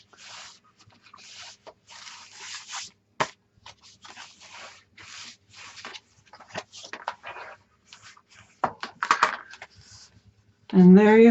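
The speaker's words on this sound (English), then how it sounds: "Go ahead and take your bone folder and gently burnish both pages." A bone folder burnishing paper mini-album pages, producing soft irregular rubbing and swishing strokes, faint and close, with brief pauses and a short voice at the very end.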